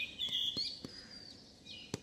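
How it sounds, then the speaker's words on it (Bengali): Birds chirping in the early morning, a few thin, high whistled calls and short chirps at moderate distance over a quiet background, with occasional soft knocks. "চারিদিকে পাখির আওয়াজ হচ্ছে"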